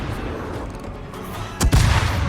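A warship's main-battery salvo booms out in a naval combat game, a single loud, sharp blast rising suddenly over steady background rumble and ringing out briefly.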